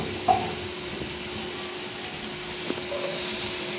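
Onion and other vegetables sizzle in a splash of oil in a pan while a home-style Latin dish is prepared, a steady soft hiss running unbroken throughout with no talking.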